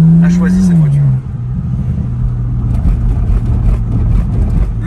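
A six-cylinder car engine rumbles steadily at idle and low revs, with a brief rising rev in the first second before settling into a continuous, fairly loud drone.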